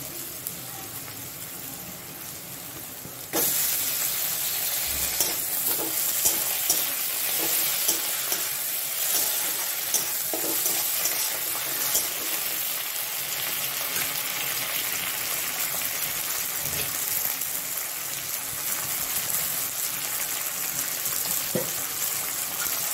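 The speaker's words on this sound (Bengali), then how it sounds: "পেঁয়াজটা আমার এখানে লাল করে ভাজা হয়ে গেছে, আমি টমেটো কুচিগুলো দিয়ে দেবো।" Chopped onions browned in a pan sizzle and fry steadily, then chopped tomatoes go in and a louder, hissing sizzle with stirring scrapes carries on close up for the rest, with no talking.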